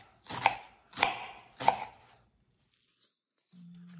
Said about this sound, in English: Slice the onion thinly.